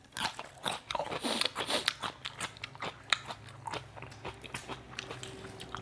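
Crisp, repeated crunchy bites and chewing of raw vegetables dipped in chili jaew with fermented pork, close and loud, irregular crunches one after another with no talk.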